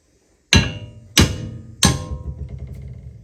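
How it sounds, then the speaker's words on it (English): Three heavy hammer blows strike a steel tie rod arm to drive it down, each a sharp, loud, close metallic impact with a ringing decay, spaced about two-thirds of a second apart. "So we're going to hit the arm and drive it down."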